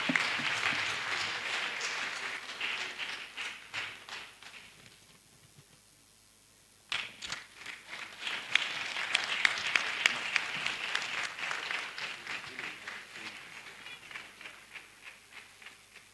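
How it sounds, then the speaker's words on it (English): An audience at the Comptroller General annual conference 2024 applauds during an award presentation, with steady dense clapping that fades, drops out briefly, then swells back strongly and tapers off. "Please, a round of applause as the presentation takes place."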